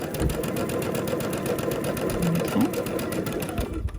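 A sewing machine runs continuously stitching a quilt seam, a fast steady mechanical chatter up close, with a couple of faint tonal squeaks partway through and a stop at the very end.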